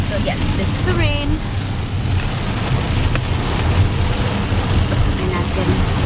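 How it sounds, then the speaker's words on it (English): Steady rain on a rainy day in Houston, heard from inside a car as a broad constant hiss with road rumble underneath, while someone talks over it. "So yes, this is the rain."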